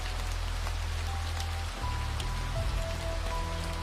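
Steady rain falls in an even, unbroken hiss of drops on a surface, moderately loud and continuous with no voices over it.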